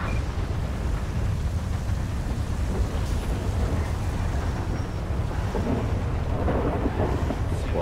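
Rain and thunder from a GTA 5 game storm make a steady, dense rumble with low booming swells and a wind-like wash, heard alone without speech.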